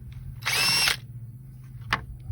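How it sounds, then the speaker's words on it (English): Power drill backing out small screws from a door speaker panel on a 1994 Chevrolet Suburban, one loud whirring burst of about half a second followed later by a short click. "Go ahead and take these 4 little screws off here."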